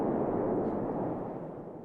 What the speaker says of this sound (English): the big booms that we're hearing are huge gas bubbles in the magma that are popping open